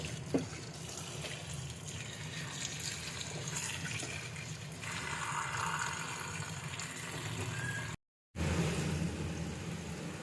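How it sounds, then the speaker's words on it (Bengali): Taro flowers are rinsed under a running tap, a steady close stream of splashing water with a brief break near the end. "ফুলগুলোকে ভালোভাবে ধুয়ে নিতে হবে।"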